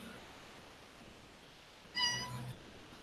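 A short, faint cat meow rises briefly out of quiet background hiss.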